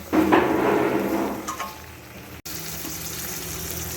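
Spinach chicken (palong chicken) that has released a lot of oil sizzles loudly in a pan as it is stirred after the lid comes off; the frying hiss is strongest at first, then settles to a quieter simmer.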